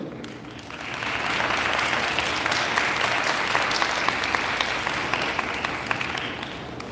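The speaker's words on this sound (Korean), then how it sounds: "여러분 뜨거운 박수로 환영해 주세요." Warm applause from a concert audience welcoming performers at the Ecopino first-anniversary show, a dense, steady wash of many hands clapping that swells after the first second and holds loud and even throughout.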